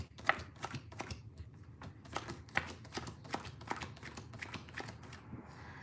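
A deck of tarot cards is shuffled close by, a rapid series of crisp riffles and slaps in bursts, fairly quiet with no talk.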